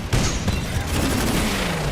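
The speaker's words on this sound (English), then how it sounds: "Now I can shoot my rockets at him." A rocket salvo firing in Titanfall 2 gives a dense, loud, continuous roar of launches and blasts that fills the whole two seconds.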